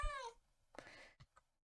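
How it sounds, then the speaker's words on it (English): A faint meow from cats in Minecraft opens, followed by softer scratchy mews and small rustling sounds that trail off into quiet. "Oh, I hear cats."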